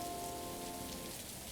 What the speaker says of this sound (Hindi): आगे से 1-8 घंटे में ठहर जाएगी बारिश।